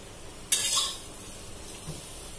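Fried food slides from a frying pan onto a plate: one sharp metallic scrape and clatter comes up close, then fades into a faint sizzle, and a soft knock follows a moment later.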